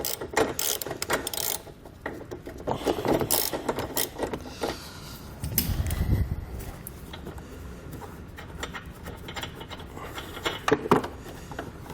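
A bolt is worked loose from a car bumper with intermittent ratcheting clicks and metallic scraping, close by, in irregular bursts with pauses between them and no speech.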